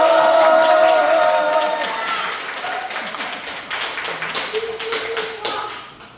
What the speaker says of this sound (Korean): 우리 목사님 박수로 크게 환호하며 환영하겠습니다